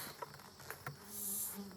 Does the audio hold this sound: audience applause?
no